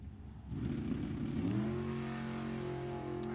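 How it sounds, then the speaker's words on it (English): Drag race cars launching at an NHRA Summit Racing Series E.T. finals, including a 1971 Mercury Comet: a deep engine roar swells and holds a rising, steady drone, loud and sustained, with no talk. "Giacconi left side, 659 the dial in the 71 Mercury Comet."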